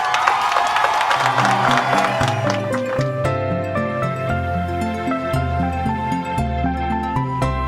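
A crowd at a church gathering breaks into cheering and clapping, loud and sustained near the start, then fading into a background of overlapping voices and lively music.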